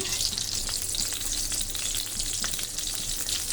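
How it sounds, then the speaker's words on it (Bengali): Turmeric-and-salt-coated eggplant slices fry in mustard oil in a wok, making a loud dense crackling sizzle that holds steady throughout, close up, with no talking. "এখন সব বেগুনগুলো আমি কড়ার তেলের মধ্যে দিয়ে দিয়েছি"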